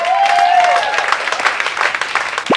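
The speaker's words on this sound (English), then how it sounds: "here's some applause for you." Canned applause sound effect triggered from a button in a Garfield cartoon, a short, steady burst of clapping with a brief tonal voice-like sound over its start and a sharp swoop near the end.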